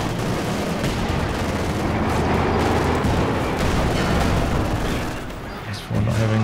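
Anti-tank guns and other weapons fire amid a Company of Heroes 2 World War II battle, a dense barrage of cracks and booms under continuous talk, dipping briefly before the noise resumes.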